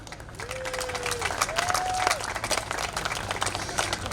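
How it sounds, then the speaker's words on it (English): An audience at a Portugal Day celebration in San Jose applauds a guest, a sustained crowd clapping that swells and carries on, with a tone sweeping through it. "Catarina got more applause."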